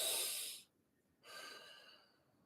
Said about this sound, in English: Y'all see me breathing.